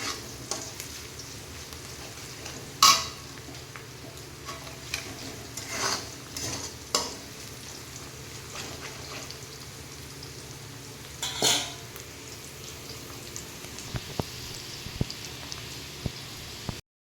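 Onions browning in a pan, with turmeric added, give a steady low sizzle while a spoon scrapes and stirs in a few sharper bursts, close and without talk.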